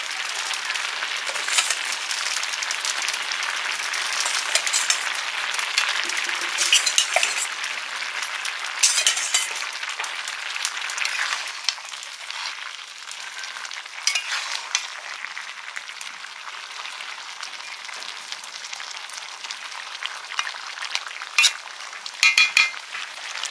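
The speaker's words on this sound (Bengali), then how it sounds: "এবারে মাছগুলো দিয়ে দিচ্ছি।" Fish pieces go into a boiling Bengali fish curry with potatoes and telakucho stems, giving a steady, close bubbling sizzle with a few faint clinks, no voices.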